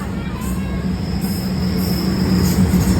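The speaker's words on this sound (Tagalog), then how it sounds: "Andyan na ang train. Dito kami sasakay. Old train. Traditional train." An old traditional passenger train pulls in, rumbling loudly with a metallic wheel squeal and rail noise, steady and close throughout.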